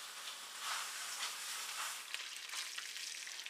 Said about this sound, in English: In a hot pan, you're going to place 1 pound of ground beef, ground turkey, or sausage.